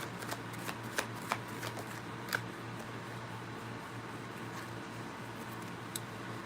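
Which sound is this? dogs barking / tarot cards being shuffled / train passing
tarot cards being shuffled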